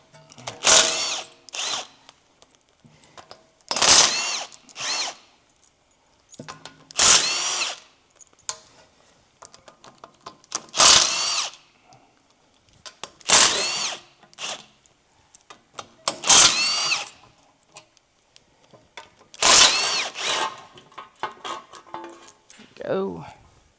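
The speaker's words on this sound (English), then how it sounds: "now we can take 14 millimeter and take all these spindle bolts out." A power tool fitted with a 14 mm socket drives out the spindle bolts on an 80 Series Land Cruiser front axle. It sounds as loud, close whirring bursts repeated about eight times, with brief pauses and handling noise between them.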